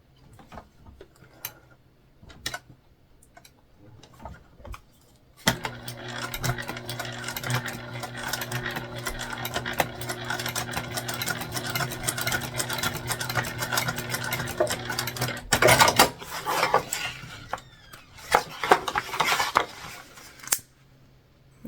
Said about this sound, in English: And do a second stitch line, just like we did before.